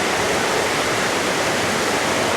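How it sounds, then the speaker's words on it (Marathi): A torrential monsoon downpour in the Konkan region in August makes a dense, roaring wash of falling water that is loud, close and steady throughout, with no pauses or voices. "एकदम खतरनाक पाऊस चालू आहे"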